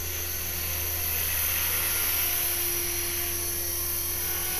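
An HK-450 RC helicopter with a rebuilt rotor head spins up close by, producing a steady, smooth high whine with an even whirring drone and no other sounds.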